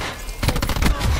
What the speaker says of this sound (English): Who the fuck's shooting me in the back?